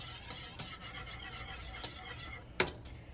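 Grits being whisked into liquid in a pot, soft scraping and stirring with a few light metallic taps of the whisk against the pan, quiet and close.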